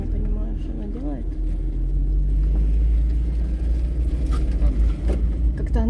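A car accelerating sharply, heard from inside as a deep, swelling engine rumble that holds steady and loud throughout.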